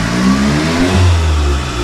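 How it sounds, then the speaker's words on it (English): A turbocharged engine in a Volkswagen Jetta GLI (MK7.5), fitted with an aftermarket turbo inlet pipe, revs up and holds steady near 2500 rpm, a loud continuous rumble with a whooshing intake rush over it, no voices. "The intake definitely sounds like it has more air going into it."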